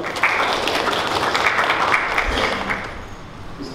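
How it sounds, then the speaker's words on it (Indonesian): Audience clapping in a hall during a Quran memorization session, a dense steady patter of many hands that fades slightly toward the end, with some voices mixed in. "Tepuk tangan bagi dia, Pak."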